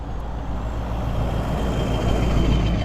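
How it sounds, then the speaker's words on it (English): A heavy diesel truck with a loud muffler rumbles past nearby, a deep steady engine roar that swells slightly toward the end, with no voices. "there are a lot of big trucks in my neighborhood that have loud mufflers"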